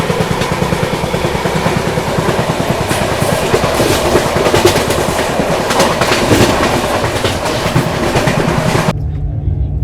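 A passenger train rolls into New Jalpaiguri Junction with a steady, loud rhythmic clatter of wheels over rail joints, heard from on board, before cutting off abruptly near the end.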